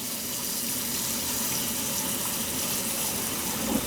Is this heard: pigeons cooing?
no